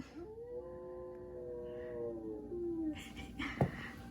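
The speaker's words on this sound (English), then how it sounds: "the dog is out here howling" A dog howls outdoors, one long wavering wail that slides slowly downward for about three seconds, fairly close and clear, followed by a brief yip and a sharp knock.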